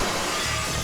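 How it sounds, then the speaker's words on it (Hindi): A glass window breaks in one loud, brief shattering burst. "साला फिर से मेरा कांच तोड़ दिया।"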